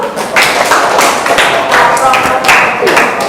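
A classroom of students claps for a group after its presentation, a dense stretch of hand claps lasting several seconds with some voices mixed in.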